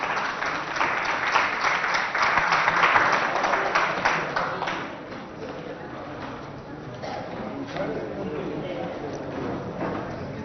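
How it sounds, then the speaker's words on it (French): Applause from a school competition audience welcoming the jury members, loud at first and then fading to a softer, steadier clapping with background crowd noise. "Sous vos acclamations, on reçoit les membres du jury"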